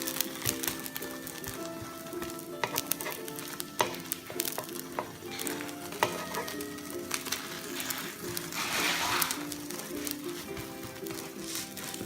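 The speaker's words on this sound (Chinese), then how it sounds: "大概再煎这么1分半钟。" An omelette with cheese sizzles and fries steadily in a pan, with a dense continuous crackle and occasional scrapes or taps, close and moderately loud throughout.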